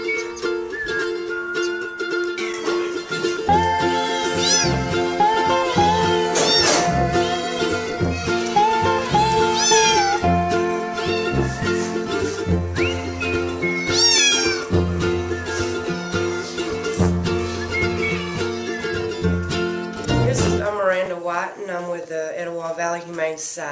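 Cats at a humane society shelter meow repeatedly and overlap, some calls high and drawn out, while people talk nearby throughout; a kitten's cries stand out near the end.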